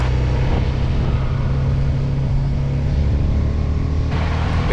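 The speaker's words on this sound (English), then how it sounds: "There is a massive difference in the exhaust note as well. I am feeling like a muffled voice" BMW G310 R motorcycle being ridden on an open road: a steady, muffled low exhaust drone with a constant rumbling engine hum, loud and close with no break.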